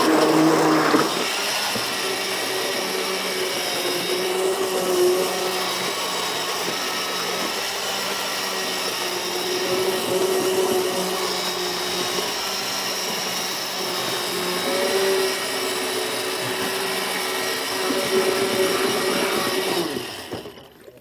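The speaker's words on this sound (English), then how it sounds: "That's about how much time you should probably spend on it with this immersion blender." An immersion blender whirs steadily for about twenty seconds, a loud continuous motor drone with a faint rising and falling pitch, then cuts off at the end.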